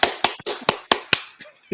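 Sharp hand claps from one person, about seven crisp close claps in an uneven rhythm, loud and dry with no talk over them.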